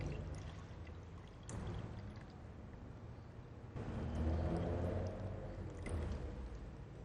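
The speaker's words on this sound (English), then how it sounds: "I'm going to add more milk" Milk pours into a pot of rice in a faint, continuous liquid stream, quiet and close, with a slightly fuller gurgling pour partway through.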